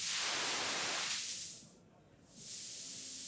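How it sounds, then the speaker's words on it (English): Steady broadband hiss of white noise from a Dreadbox Eurorack synthesizer module that dips and dulls briefly in the middle before returning to full, bright intensity. "This is the white noise channel."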